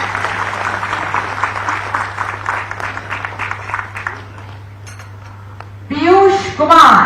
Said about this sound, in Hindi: तालियां होती रही।